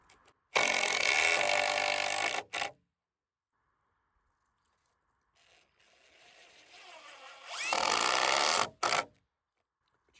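A power drill drives a 3.5 inch number 10 SPAX deck screw into wood on a tent platform build, with two loud, close bursts of motor whine separated by a quiet pause.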